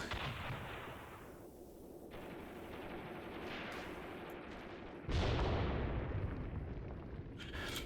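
Artillery and machine-gun fire from a WWII tank battle in Graviteam Tactics: a dense, continuous roar of shots and blasts with a louder surge partway through, close and heavy, with no talking.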